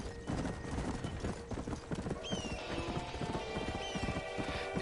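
Rhythmic hoofbeats of a trotting horse in the video game Red Dead Redemption, steady clip-clops over background music with a tonal whine.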